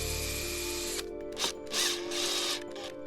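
Drill driving screws through steel 90-degree corner brackets into a wooden frame: a steady motor whine that drops off, then short pulsed bursts of drilling follow.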